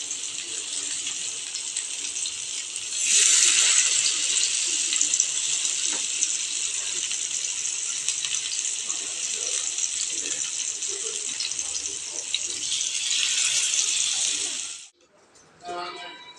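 Fish frying in hot oil sizzles in a bright, steady hiss that surges louder early on. It holds for most of the stretch, then cuts off abruptly near the end.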